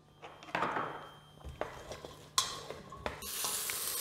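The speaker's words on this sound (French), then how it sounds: "Et on va ajouter nos oignons, on commence par eux, ou notre oignon ciselé, qu'on va faire fondre gentiment" Finely chopped onion softens gently in a large saucepan for a squash and coconut-milk soup, making a quiet hiss broken by a few wooden-spoon knocks and stirring scrapes.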